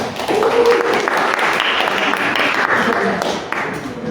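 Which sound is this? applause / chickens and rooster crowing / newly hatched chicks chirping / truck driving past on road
applause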